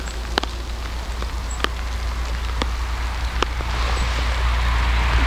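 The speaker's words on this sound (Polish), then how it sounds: "Na razie jeszcze za mały deszcz, żeby się przebierać" Light rain falling outdoors during a fishing trip makes a steady soft patter under a low rumble, with a few sharper drop ticks scattered through it and no talk.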